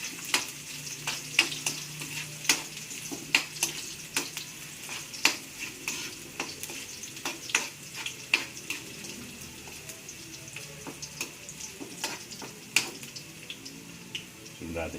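Ginger sizzles steadily in a frying pan while a utensil stirs it, giving frequent scraping clicks and taps over a constant bright frying hiss.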